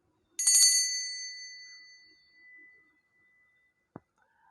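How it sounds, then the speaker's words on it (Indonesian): A single bell rings out with a bright metallic tone that lingers and slowly fades, followed by quiet and a faint sharp click. "ditandai dulu dengan lonceng berbunyi"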